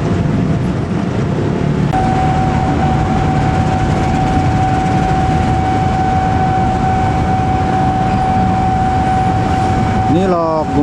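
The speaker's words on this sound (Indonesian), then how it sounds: "Ini lok Gumarang ya yang mau langsiran." KA Gumarang train locomotive shunting at a station: a continuous heavy diesel rumble with a steady tonal whine setting in after two seconds, lasting throughout, and a brief rising and falling squeal near the end.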